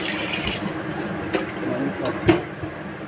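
Running tap water pours over black chicken and pork being washed in a sink, a steady moderate stream with a couple of sharp knocks and splashes, and faint voices in the background.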